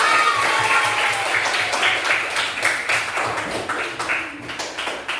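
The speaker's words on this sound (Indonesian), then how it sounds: "tepuk tangan sekali" A primary school class claps together in a brief burst of applause, steady and fairly close, fading slightly toward the end.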